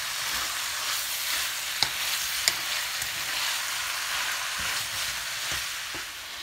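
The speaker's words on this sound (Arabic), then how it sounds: "غادي نزيد الكفته، غادي نقصها في الغاز." Minced kefta sizzles steadily in a pan over a gas flame, a continuous close frying hiss with a few sharp pops and crackles scattered through it.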